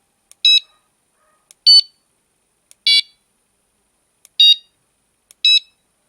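Hirisi S5 fishing bite alarm pager sounding five loud, clean electronic beeps spaced about a second apart against silence, each one a short high tone.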